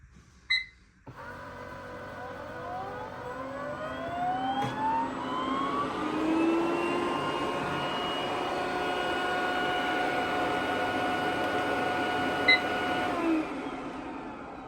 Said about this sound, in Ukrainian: Робот включився.